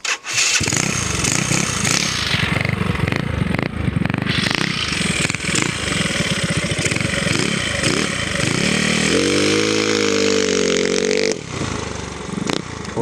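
A Yamaha Mio scooter revs hard while riding, its small engine rising and falling in loud, raspy bursts with wind rush, close up and continuous throughout.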